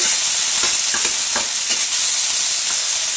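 Beef and chicken browning in a hot pan for a beef, chicken and bacon stir fry give off a loud, steady sizzle with occasional stirring scrapes, close and continuous with no talking.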